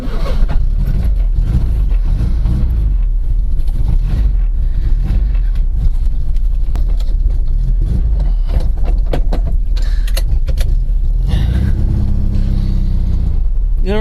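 VW Type 3 car driving after a rear disc brake install, with a loud, constant low engine rumble and road noise from inside the car, slight revving toward the end.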